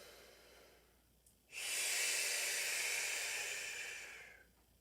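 During a Pilates exercise, a single long, breathy inhalation begins sharply and holds steady for about three seconds before tapering off, close and fairly quiet.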